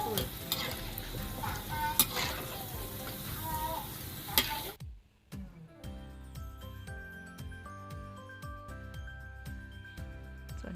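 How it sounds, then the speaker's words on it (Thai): Battered white sea bass fries in hot oil with a loud, crackling sizzle for about five seconds, then cuts off abruptly into quieter, tonal sounds. "แล้วก็นำเนื้อปลาลงไปทอด ให้เหลืองๆค่ะ"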